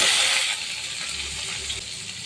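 Garlic and onion frying in hot oil with mustard seeds and dried chillies, a steady broad sizzling hiss that is loudest at first and then settles to a softer, even crackle, with no talking.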